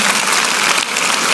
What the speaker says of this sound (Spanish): un aplauso a estos chicos